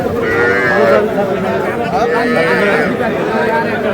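Cattle moo loudly and repeatedly at a busy livestock market selling young bulls and heifers, with nearby talk and crowd chatter underneath.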